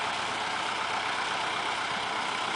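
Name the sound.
tractor engine running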